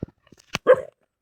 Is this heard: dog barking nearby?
yes